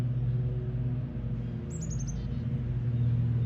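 Small garden bird such as a chickadee gives a brief run of five quick descending chirps near the middle, faint over a steady low background hum.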